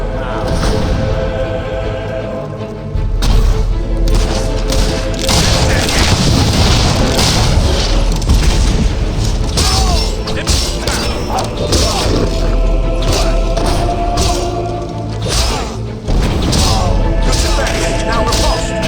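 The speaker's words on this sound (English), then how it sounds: "Take that mortar out!" Heavy mortar fire and explosions in a castle siege battle in Fable 3, with booming impacts, thuds and crashing debris rolling on continuously and loudly, voices shouting now and then beneath the din.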